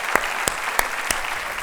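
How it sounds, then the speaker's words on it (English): An audience at a fall faith event applauds a panel, steady crowd clapping with a few sharp, louder individual claps standing out at regular intervals. "let's give the panel a round of applause"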